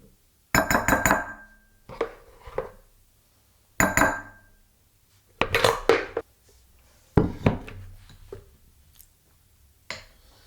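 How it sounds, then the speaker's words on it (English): Glass food containers clink and knock as they are handled in a kitchen, a series of sharp, close, ringing taps in irregular clusters separated by quiet gaps. "You're gonna need glass containers like this."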